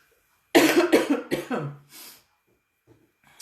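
A deep, hollow cough bursts out in three close, loud fits followed by a softer fourth, then near silence with faint breathing.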